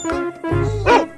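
A dog in an animated animal-themed children's piece gives a couple of quick, loud, close barks with a yipping edge, heard alone without talk.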